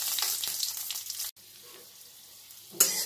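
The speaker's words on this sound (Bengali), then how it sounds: "ফোড়নটা একটু তেলের মধ্যে নাড়াচাড়া করে নেব।" Nigella seeds and a green chili tempering stirred in hot oil, with a bright close sizzle and scraping stirs that briefly cut out, then return with a sharp crackling flare at the end.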